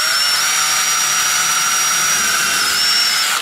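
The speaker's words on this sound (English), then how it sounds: "drill 2 holes so that I can get some screws to go through there" High, steady whine of a power drill boring holes through a folded-over leather belt handle, loud and close for a few seconds before spinning down at the end, with no talking.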